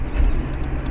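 A car drives along, its steady low engine and road rumble close and continuous with no talking over it.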